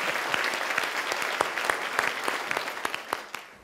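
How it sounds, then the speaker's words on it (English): An audience applauds Carla at a Teachers of the Year event, a steady wash of many hands clapping with scattered sharper claps standing out, continuing evenly throughout. "We should really give Carla a round of applause for her."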